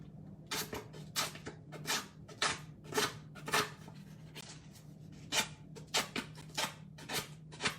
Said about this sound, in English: So you take your scissors and do it like this.